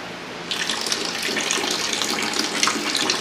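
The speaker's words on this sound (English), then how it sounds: "I don't know if you can hear the gas going in there, but there's definitely some gas in there." Gas hissing into a beer keg while sanitizer is pushed through the beer line, a steady broadband rush that starts abruptly after a brief quiet moment and holds at an even level to the end.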